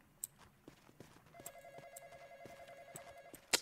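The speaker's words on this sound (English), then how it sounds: "That's your phone, bro." A phone rings inside a Roblox horror game, a faint repeating electronic trill pulsing steadily for a couple of seconds among scattered light taps and footstep-like knocks.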